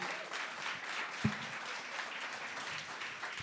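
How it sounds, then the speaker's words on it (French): Studio audience applause, a soft, steady patter of clapping heard throughout at modest level, with one sharp thump partway through. "On peut l'applaudir, Dave."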